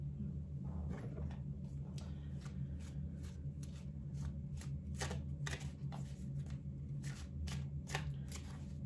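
Oracle cards are shuffled by hand for a reading, making soft, close riffling flutters and quick slaps in a repeated rhythm over a low room hum.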